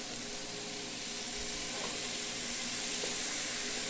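Ketchup and Worcestershire sauce being stirred into a sloppy joe mixture of garlic and jalapeno, a steady close sizzle and hiss from the pan with faint scraping, no talking.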